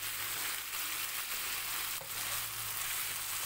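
Chicken liver roasting in a pan gives off a steady, even sizzle and hiss with a brief stir or scrape midway; no voices.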